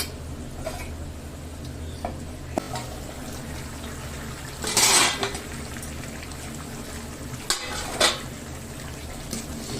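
Lentil fritters go into a simmering pot of ash gourd vegetable curry over a low bubbling, frying background, with a few soft splashes and clanks of the lid or pan as the pot is covered, no talking.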